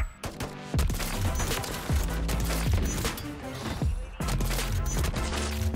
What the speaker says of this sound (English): Now, it shoots like this. An Outlaw-style lever-action sniper,